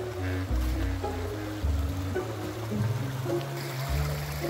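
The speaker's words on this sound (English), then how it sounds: "these chum salmon are running up this stream right now" A small forest creek with chum salmon running upstream in early November, a close, steady babble and splash of flowing water with faint irregular disturbances.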